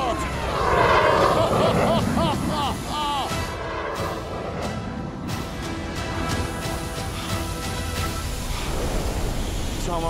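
Cockpit of an L-39 jet trainer in flight, a steady loud engine roar and rushing air filling the whole stretch, with voices speaking over it.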